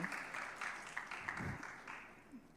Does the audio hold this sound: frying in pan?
no